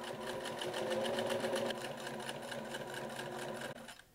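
A sewing machine steadily stitches a rectangle on a button-up shirt placket, a close, continuous mechanical whir with a rapid even needle rhythm that runs for about four seconds before stopping abruptly.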